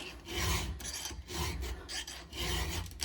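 A hand file rasps over chainsaw chain teeth during sharpening, making repeated close scraping strokes in an uneven back-and-forth rhythm, fairly quiet and with no speech.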